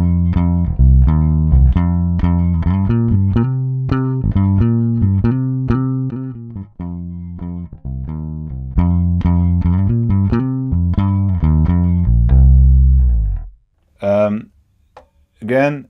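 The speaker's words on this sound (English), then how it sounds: "I made a preset that's, I think, some sort of a modern DI bass sound" A clean electric bass through an Eden WT-800 amp simulator plugin with a modern DI-style preset plays a steady, punchy line of repeated notes up close, ending with a few brief sharp sounds and silence.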